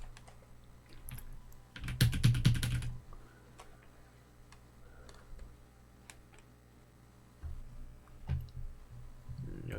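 Rapid clicking of a computer keyboard at a home PC, a dense burst of keystrokes followed by sparse scattered taps and a few more clicks near the end.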